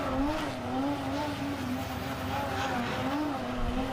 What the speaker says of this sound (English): Ramzi Ahmed now warming up the tyres on the back end of that Nissan Silvia S14